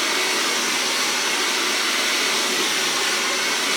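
Hair dryer running on hot heat at low speed during a blowout, a constant loud close-up broadband whoosh of airflow with no pauses or talk.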